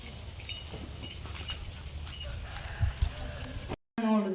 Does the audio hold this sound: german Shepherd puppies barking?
no